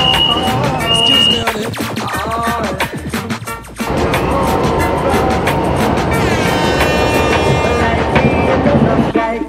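Fuzhou Metro Line 1 train running, a loud continuous rumble with rhythmic rail clatter and a rising whine as it moves, steady throughout with some background voices.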